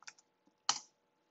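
Typing a command on a computer keyboard during a server operating system conversion: a few quiet key taps followed by one louder, sharper keystroke, close and alone.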